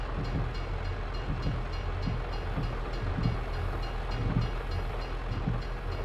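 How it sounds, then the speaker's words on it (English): A BNSF freight train led by two locomotives rolls past in a video game, a steady low rumble with rhythmic wheel thumps and clanks over the rails, close and continuous throughout. "that's the first that I see a train coming through"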